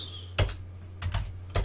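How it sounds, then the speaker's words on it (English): A few clicks on a computer keyboard, three short keystrokes spaced irregularly over a low electrical hum, close and quiet with no talking. "So maybe I would type my little apostrophe and I would go"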